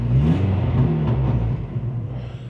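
A turbocharged Honda Integra engine holds revs on two-step launch control, a loud, close, rough low rumble with choppy pulsing that eases off toward the end, no talking.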